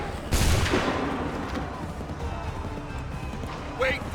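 Musket volley fired in Assassin's Creed III Remastered: one loud, sharp blast near the start that trails off into a long rumbling decay, with a second, smaller report near the end and shouted commands around it.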